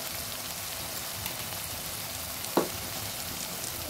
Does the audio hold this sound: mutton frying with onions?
yes